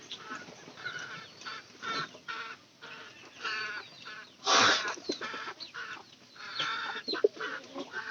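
Chickens cluck in a coop, a steady jumble of overlapping clucks and calls that runs throughout, with one louder squawk about halfway through. No one speaks.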